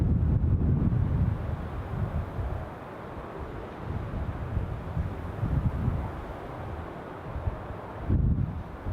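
Strong gusts buffet the microphone at an airport, a heavy rumbling roar that swells and eases in surges, loudest at the start and again near the end.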